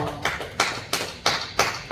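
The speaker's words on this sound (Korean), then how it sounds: "우리 하나님께 박수" A church congregation claps in a slow, even rhythm, with about five distinct sharp beats over two seconds and no other sound behind them.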